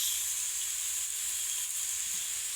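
Steady sizzling and hissing from food being sautéed in a pan for pumpkin chhokka, a continuous close, moderately quiet frying hiss with no voices.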